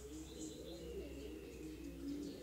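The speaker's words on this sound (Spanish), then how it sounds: "Lo que hay son zuritas, pues zuritas." Stock doves cooing outdoors during a dove hunt: soft, low, repeated coos carry steadily from a moderate distance, with light chirps of other birds in the background and no talking.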